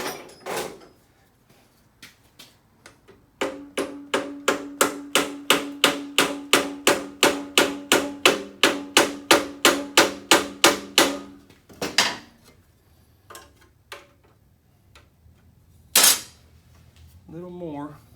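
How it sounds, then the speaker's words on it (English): Repeated hammer strikes on a metal part of a low-budget CT70 clone minibike being straightened, a steady run of about twenty sharp, ringing blows close by, preceded and followed by a few scattered knocks and brief talk. "maybe hit it with a hammer or something here and straighten it up."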